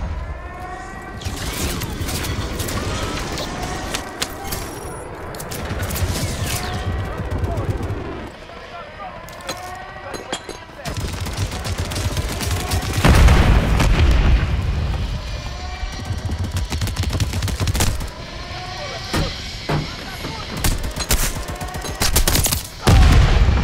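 An air strike in the shooter Call of Duty on the Urzikstan map brings heavy automatic gunfire and booming impacts in repeated loud bursts, along with aircraft and mechanical noise, while radio-style voices talk throughout.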